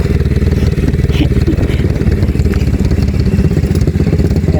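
A motorcycle engine runs steadily and close by, a loud continuous chugging rumble with a faint clatter throughout.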